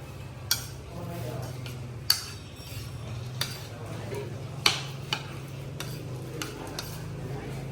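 Onion being stirred into a Thai fried egg salad, a spoon scraping and clinking against the bowl in sparse sharp taps over a low steady hum, close and fairly quiet.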